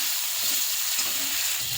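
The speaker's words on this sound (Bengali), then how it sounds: "পেঁয়াজটা ভাজা হচ্ছে" Onion sizzling in hot oil in a pan while cooking a green-chilli chicken curry, a steady, dense crackle running without pause, with faint stirring beneath.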